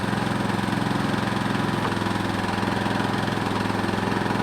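A Predator 3500-watt inverter generator runs steadily under load with an angle grinder plugged in, a constant close mid-pitched engine drone with slight rhythmic pulsing and no talk.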